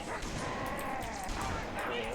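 Dogs bark and yip in a video game, loud and continuous, mixed with game noise while a person talks over them.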